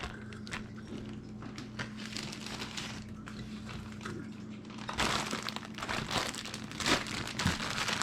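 Plastic bag crinkles and rustles up close as frozen carrot pucks are dropped and packed in, the crackling growing louder and busier toward the end.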